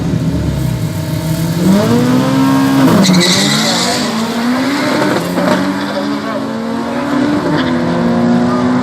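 Drag racing cars at Killarney in Cape Town launching and accelerating hard down the strip, with loud engines revving up through rising pitch sweeps and tyre squeal, while a commentator talks over the noise.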